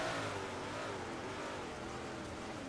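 A dirt 358 race car in the iRacing video game drones along, its engine note easing as the driver lifts off the throttle, with steady racing engine noise throughout and no talk.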